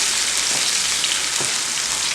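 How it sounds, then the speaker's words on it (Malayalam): Prawns frying in ghee over a high flame make a steady, close sizzle and crackle, continuous and loud with no talking. "ചെമ്മീൻ ഇങ്ങനെ നമ്മൾ ഫ്രൈ ചെയ്തെടുക്കുമ്പോൾ കുറച്ച് വെള്ളം അതിൽ വരും"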